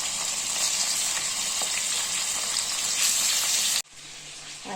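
Chicken pieces frying in well-heated oil in a pan, a steady close crackling sizzle with small pops that cuts off abruptly near the end, leaving faint quieter sizzling.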